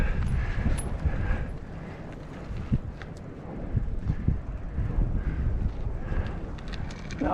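Wind gusts buffet the microphone of a cyclist riding up Windmill Hill during the Red River Riot 2022 bike event, a steady rumbling roar with surging gusts throughout.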